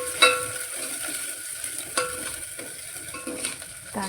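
Chopped onion drops into a spoonful of hot oil for chicken biryani, giving a soft continuous sizzle with a sharper burst at the start, a few stirring clinks, and a fresh crackle near the end, with no voices.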